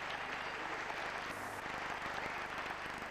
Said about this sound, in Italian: invita tutti ad applaudire i novelli sposi